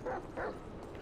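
Chop, the dog in the video game GTA V, gives two short close barks in quick succession, followed by quieter background game sound.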